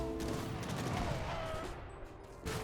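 Mortar fire against a town center in an Age of Empires 3 match, a rumbling blast and crackle amid dense battle noise, fading near the end.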